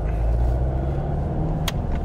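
A car engine hums steadily at low pitch while driving during a learner driving lesson, with the gear change to second, a continuous close rumble and no talk.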